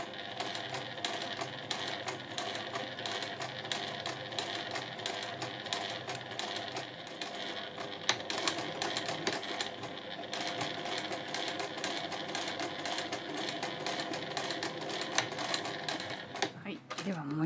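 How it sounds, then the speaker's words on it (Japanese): Close up, a sewing machine stitches a fabric drawstring pouch in a long, steady, rapid run, and someone talks over the mechanical rattle throughout. "そのままカーブの終わりのところ、ここの平らな部分も続けて縫っていきましょう。"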